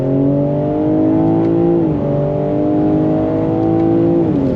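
A 2022 BMW M3 accelerating hard on throttle, its engine note climbing steadily through two upshifts with brief dips between gears, loud and close as if heard from inside the car.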